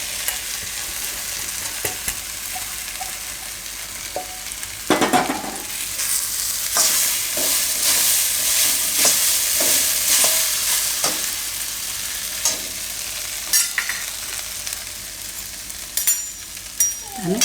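Soaked sago pearls sizzle and fry in a pan while being stirred, a steady hiss broken by repeated scraping strokes of a spoon against the pan, close and fairly loud with no talking.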